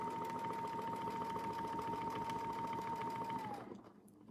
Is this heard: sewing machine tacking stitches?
yes